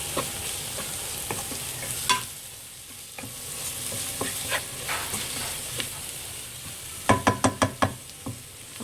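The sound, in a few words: stirring fish curry spices in hot oil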